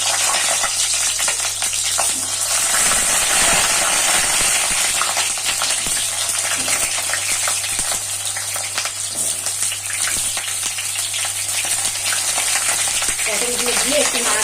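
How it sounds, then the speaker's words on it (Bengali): Cut pointed gourd pieces frying in smoking-hot oil, a loud, steady sizzle running throughout with occasional stirring scrapes. "তেলটা গরম হয়ে গেছে। আমি এখন এই কেটে রাখা পটলগুলো দিয়ে"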